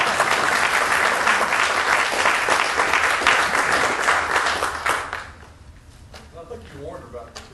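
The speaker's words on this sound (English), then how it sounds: "I think you deserve a round of applause." Room full of people at a school board meeting breaks into loud, dense applause that fades out after about five seconds, leaving faint voices and room noise.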